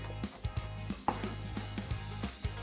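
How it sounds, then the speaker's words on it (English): A knife roughly chops a pepper on a cutting board for a carne asada marinade, giving about a dozen fairly even, close-up knocks in a steady rhythm, moderately quiet over a low background hum. "So I'm just going to do a rough chop."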